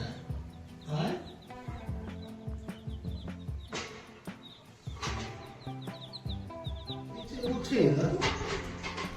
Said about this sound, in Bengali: হ্যাঁ আজকে আরেকটা মুরগি পড়ে গেছে।